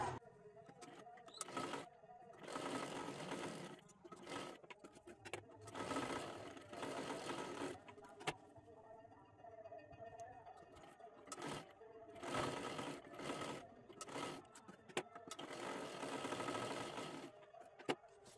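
Sewing machine stitching tucks on a dress in repeated runs of whirring, rapid needle action separated by short pauses, close and clear.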